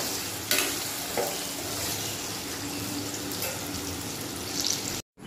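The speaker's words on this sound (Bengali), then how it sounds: "আলুটা একটু লাল করে ভেজে দেবো।" Potatoes fry in a pan with a steady, loud sizzle and occasional stirring scrapes, the crackle holding on throughout before a brief cut near the end.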